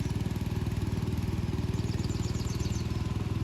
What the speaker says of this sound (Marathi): तिथे ट्रॅक्टरचा आवाज येतो आहे.